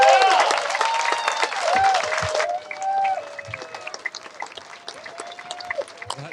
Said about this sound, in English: That deserves a standing ovation.